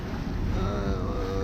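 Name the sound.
sailboat motoring on calm sea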